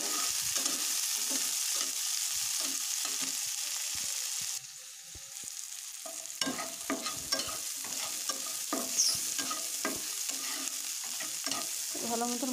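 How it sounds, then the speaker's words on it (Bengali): Capsicum, green chilli and onion fry together in a pan, a steady close sizzle broken by repeated scraping and stirring strokes of a spatula, with no talk. "ভালো মতন ভাজা ভাজা হয়ে গেছে"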